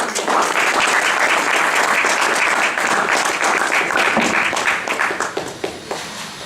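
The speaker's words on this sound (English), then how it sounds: "So give them a round of applause, Kurt and Lorraine" Loud, dense audience applause from a crowd, sustained steadily before tapering off slightly toward the end.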